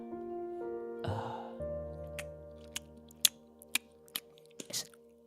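Close-miked chewing with a series of sharp crunchy bites and clicks, sparse and irregular over a low steady hum, with a breathy sound near the start.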